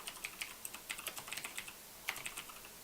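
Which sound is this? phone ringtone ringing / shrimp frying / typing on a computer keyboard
typing on a computer keyboard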